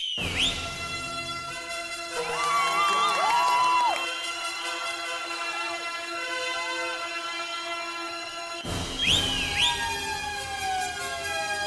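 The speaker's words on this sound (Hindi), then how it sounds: "गलती से 2 बार सीटी बज गई" A whistle blown twice at a building's stairway, with two loud shrill blasts at the start and end framing a long stretch of warbling, siren-like tones and faint crowd noise, close and piercing.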